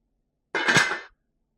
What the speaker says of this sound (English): Going to cover the pot.